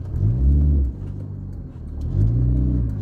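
A car pulls out of a parking spot during a driving lesson, its engine rumbling low and swelling twice as the clutch and throttle work, close and steady throughout.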